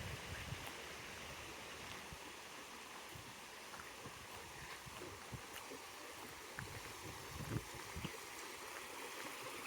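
Running water of a stream at Mottisfont, a soft, steady trickle and gurgle, quiet and continuous, with a few faint knocks and no voices.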